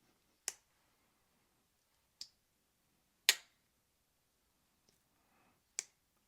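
The blade of a QSP Hedgehog spear point slip joint knife snaps open and closed, giving several sharp, isolated clicks of varying strength spaced across a quiet background with no talking.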